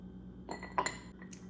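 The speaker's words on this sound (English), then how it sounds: "Add some ice to your glass." Ice cubes drop into a drinking glass with a few light clinks and a brief cluster of glassy knocks, faint and close, with nothing else heard.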